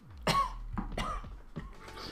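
A person coughs in several harsh bursts, close and fairly loud, with short pauses between the coughs and no speech.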